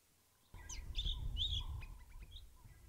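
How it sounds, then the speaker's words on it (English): Several birds give short chirps and whistled calls, fairly faint and a little distant, over a low outdoor rumble. "There's a few birds calling just to my left"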